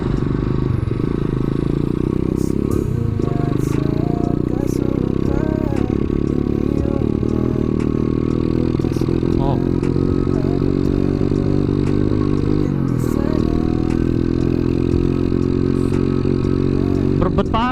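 A motorcycle engine runs rough and sputters, awaiting a carburettor teardown, with a loud close uneven idle and revs, pitch rising and falling, plus clattering and scraping; voices talk over it.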